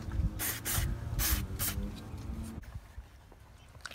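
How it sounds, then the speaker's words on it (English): Carb cleaner sprays in several short, sharp hissing bursts onto the cylinder and piston of a Yamaha Aerox scooter top end during a rebuild, close and fairly loud, followed by quieter handling noises. "I'm just going to get some carb cleaner on there and make sure it's all clean."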